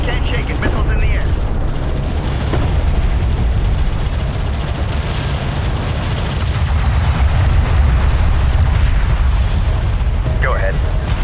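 Missile strikes and explosions in the desert real-time strategy game Homeworld: Deserts of Kharak, a continuous loud barrage of booms and blasts with a dense rumbling low end, mixed with radio-style unit chatter throughout.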